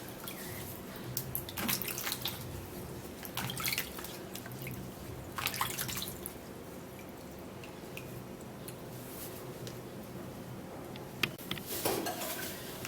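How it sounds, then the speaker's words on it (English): Sweet melon rinsed under a running kitchen tap, a steady close wash of water with splashes and drips as the fruit is turned in the stream, no talking. "You're also going to be washing the sweet melon."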